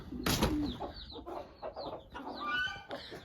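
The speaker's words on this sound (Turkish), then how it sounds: "Bu tavuğumuzu buradan çıkaracağım." A hen clucks in a chicken coop where chicks are kept, giving a series of close, distinct clucks and short calls at irregular intervals, with no talking.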